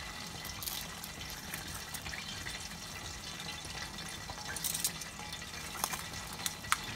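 Tilapia fish frying in a home cooking pan, a steady bubbling sizzle with faint crackles, soft and continuous, with a few sharper pops near the end.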